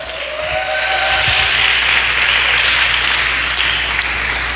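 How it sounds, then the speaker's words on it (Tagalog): A church congregation at a midweek service breaks into loud, sustained applause, steady and dense from start to finish with no voices on top. "Palakpak."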